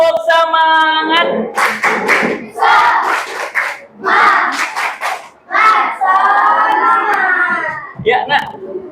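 Fifth-grade pupils in a classroom clap in crisp unison bursts between loud group chants, a teacher's voice opening the rhythmic clapping routine before the children answer.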